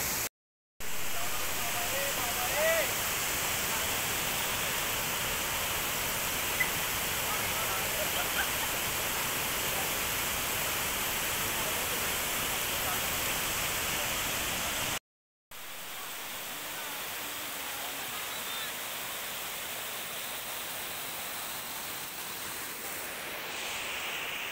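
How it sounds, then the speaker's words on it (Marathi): A small waterfall just in front of a house during heavy rain, a dense continuous roar of falling water, loud and close, with a brief break partway through. "जे आपलं घर आहे त्याच्या पुढेच हा एक धबधबा आहे छोटा"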